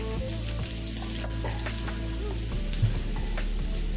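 Garlic frying in hot oil and butter in a pan, a steady crackling sizzle with scattered pops, close and continuous with no talk.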